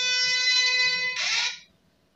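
A telephone rings in a comic Sundanese short film, one steady electronic ringtone for over a second that ends abruptly in a short burst, then silence.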